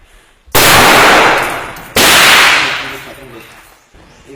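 Two loud, close rifle volleys crack in succession during combat in Marawi. Each is a sharp blast followed by a long, rolling echo that fades over about a second and a half.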